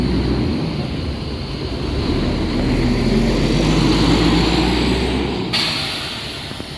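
A Mercedes-Benz bus with a 1836 engine pulls out of a bus terminal, its steady low engine drone rising and holding close, then easing slightly near the end, with no talking.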